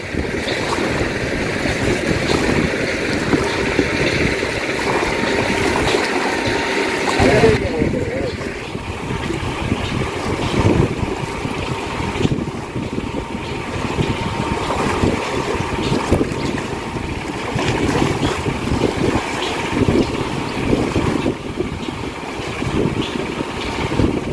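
A boat engine drones steadily throughout while wind buffets the microphone, with water sloshing in the background.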